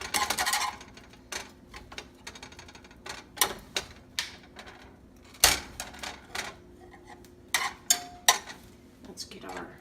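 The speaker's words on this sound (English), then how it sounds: "You can just bear down and snip these in half while they're in your pan." Kitchen scissors snipping mushrooms in half right in the pan, a run of crisp close clicks and metallic snaps at irregular intervals, with a voice talking between them.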